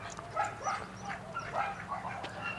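A dog gives soft, fairly distant yips and barks in a quick irregular run over steady background noise outdoors, with no talking.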